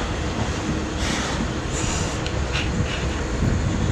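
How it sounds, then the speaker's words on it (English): A British Rail Class 450 train departing platform 6 at Guildford rumbles steadily along the track with a constant low roar and faint metallic squeals, moving past nearby. "Now leaving from platform 6 is 450088, going back up to Ascot."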